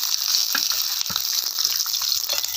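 Capsicum roasting in a little oil in a pan for stuffed bell peppers, a steady close sizzle with a few soft clicks and taps over it.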